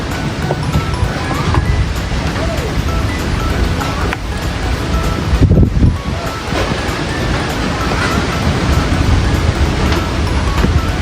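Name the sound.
strong wind outdoors at a hut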